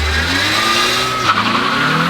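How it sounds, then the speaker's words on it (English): A K20-powered Honda Civic on stock tires with a twin-disc clutch eases into a burnout, engine droning as the tires squeal and scrub steadily, loud and close. "I basically just eased into a burnout."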